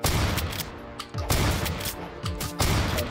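Rapid AK rifle gunfire in the Roblox video game, loud, close bursts of shots separated by short pauses, with no talking.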